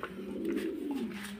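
Pigeons cooing on a pigeon farm, a close, low, continuous throaty coo from several birds.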